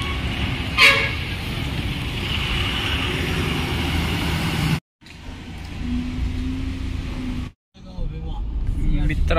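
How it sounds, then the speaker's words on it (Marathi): Busy highway traffic in rain, with a steady low rumble of engines and tyres, a short horn toot near the start, and brief dropouts where the sound cuts out. "नगर हायवेवरती खूप ट्रॅफिक आहे आणि या ट्रॅफिकमध्ये थोडा वेळ लागतो आहे आपल्याला"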